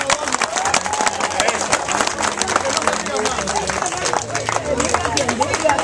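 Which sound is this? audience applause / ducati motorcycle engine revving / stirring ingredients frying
audience applause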